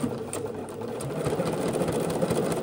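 A sewing machine hums steadily up close while top stitching a pants pocket at a quarter inch, one continuous mechanical whir with no speech.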